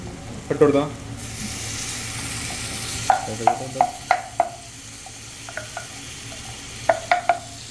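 A spoon or spatula stirs beef biryani masala in a frying pan: a soft scrape, then a steady sizzle, with sharp metallic clicks and taps against the pan spaced through the stirring.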